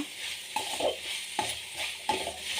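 Coconut chitranna paste with coriander and salt frying in a pan, soft sizzling with three clear stirring scrapes at a steady pace, close and quiet, no voices.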